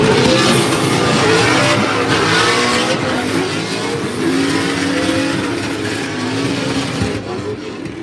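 Formula Drift car at a Utah ProSpec warm-up, a loud continuous engine roar with squealing tires as it slides through a drift, the pitch rising and wavering for several seconds.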